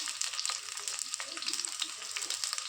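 Chopped onion, chillies and ginger sizzle in a pan, a close, even frying hiss dotted with small crackles throughout.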